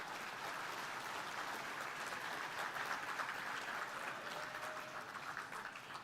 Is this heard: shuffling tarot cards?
no